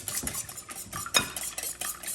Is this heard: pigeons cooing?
no